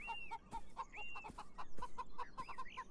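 Chickens in the video game Beyond Eyes cluck in quick, repeated bursts close by, several birds overlapping with short rising squawks and a steady pecking-like rhythm.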